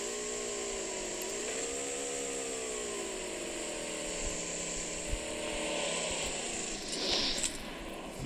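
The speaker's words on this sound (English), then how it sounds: "There's an airplane there." An airplane passes overhead in the PUBG video game as a steady, droning engine hum whose pitch bends slightly. It holds at a moderate level for the whole stretch, with no voices.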